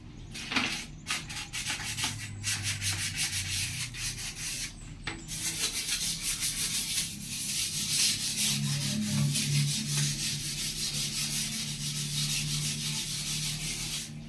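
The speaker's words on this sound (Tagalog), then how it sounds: "Yung sabon na mahirap matanggal. Gumagamit ako ng liha." Sandpaper rubs steadily back and forth to remove hard-to-clean soap residue, a close, continuous gritty scraping with brief pauses and no talk.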